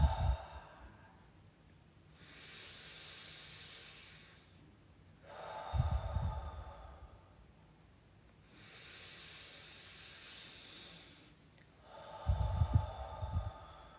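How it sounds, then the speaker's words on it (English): Deep belly breathing, each breath drawn in through the nose and let out through the mouth, repeated three times in a slow, even rhythm; soft airy inhales are followed by longer, breathy exhales with a faint huff, close and alone without talk. "Give me 3 belly breaths. In through your nose, fill up your belly,"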